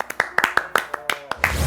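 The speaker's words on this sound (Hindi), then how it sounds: "तालियां।" Several sharp hand claps in quick uneven succession, close and crisp, with short gaps between them and a brief burst of noise at the end.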